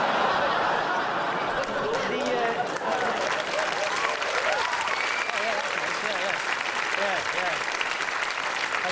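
A comedy club audience at a Danny Bhoy stand-up set claps and laughs together, a loud sustained roar of applause with chuckles and laughter woven through it.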